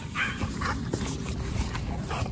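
Playful dogs whimpering and yipping close by in an excited, continuous burst of whines, with a voice talking over them.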